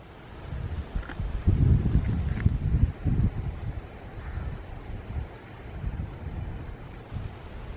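Blustering wind rushes across open grassland in low, buffeting gusts that rise and fall steadily, with rumbling wind noise on the microphone and no voices.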